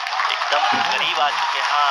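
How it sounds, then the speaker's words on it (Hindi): Thunderous applause fills the mission control room during the Chandrayaan-3 lunar landing, a dense continuous roar heard under a commentator's excited speech. "आप तालियों के गड़गड़ाहट से सुन सकते हैं"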